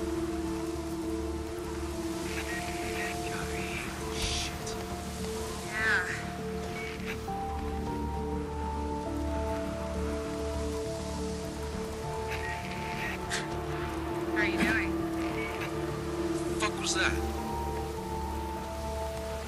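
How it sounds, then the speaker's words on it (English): Steady rain falls in the Days Gone video game, a constant hiss on surfaces beneath a low rumbling bed, while voices talk over it throughout. "like it's always raining out here."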